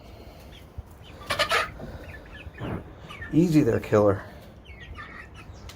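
Chickens in a partly finished coop on a windy day, giving a few short clucks and squawks, some close, with someone speaking briefly between them.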